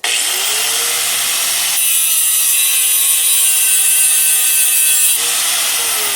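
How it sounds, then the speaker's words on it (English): Angle grinder cutting rivets off a steel steering shaft spline flange: a loud, continuous high-pitched metal grinding whine, close up, holding steady with a shift in tone midway and a brief change near the end. "I'm using this grinder to grind these rivets off so I can reuse this spline flange if I have to."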